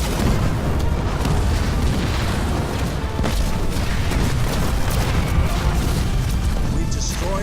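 Explosion destroying an enemy structure in Halo Wars 2, a dense, sustained roar of blasts and crashing debris filling the whole stretch at high volume, with battle noise layered throughout.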